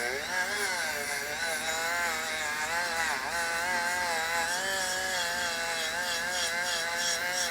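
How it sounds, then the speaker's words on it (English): A brass wire brush on a power tool scrubs rust off chrome parts of a Honda CB350 engine, a continuous whirring, rasping drone that wavers in pitch as pressure shifts. "I switched it up to a brass brush, so I can try to clean the rust off of this chrome without scratching it."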